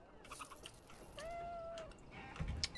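A single drawn-out cat meow with a rising-falling tone, mid-distance, over a faint rumbling background and a few light clicks, from the video game Dragon Age: Origins.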